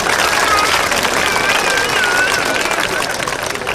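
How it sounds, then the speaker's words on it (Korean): Audience applause before a festival stage at the Icheon ceramics festival, a steady wash of clapping with crowd noise and a voice ringing over the top. "이 모든 여러분들 위해서 뜨거운 박수 부탁드리겠습니다"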